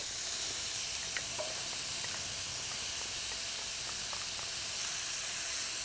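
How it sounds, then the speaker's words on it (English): Onions and garlic sizzle in a pan with Johnsonville chorizo, making a steady, even hiss that fills the whole stretch with light crackles and no voice over it. "And I'm going to go ahead and add my wonderful onions and garlic."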